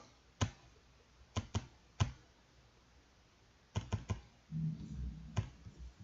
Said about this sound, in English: when you type this into your calculator, 10 factorial